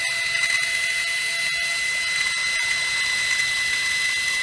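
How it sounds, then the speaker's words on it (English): A small hand drill with a 0.2 millimetre bit works into a model ship part, giving a continuous fine, high whirring with faint clicks underneath at a steady close level. "millimeter drill bit on it"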